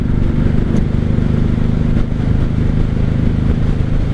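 A 1995 Honda Shadow VLX 600 motorcycle rides in third gear with a steady, loud, close engine drone and a low throbbing rumble, mixed with wind and road noise throughout.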